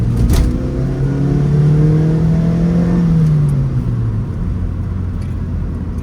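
A 2006 Mazda MX5 NC1 fitted with an induction kit, its engine revving up in a rising drone that climbs steadily, then drops away as the car eases off, loud and close throughout.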